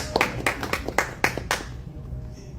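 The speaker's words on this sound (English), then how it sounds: "please let me give a round of, a round of applause for Mr. Victor King" A short burst of scattered hand clapping from a small audience at a business talk, a handful of distinct claps that quickly die away into near silence.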